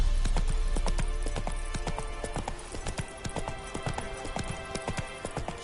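Roach, a horse in The Witcher 3 video game, clip-clopping with steady rhythmic hoofbeats at close range, loud and continuous with no talk over them.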